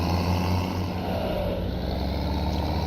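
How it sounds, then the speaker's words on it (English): A low-powered tractor engine labours up a steep hill in a farming video game, droning continuously and loudly at a low pitch. "Trying to get up this very steep hill in this very low-powered tractor, we will struggle"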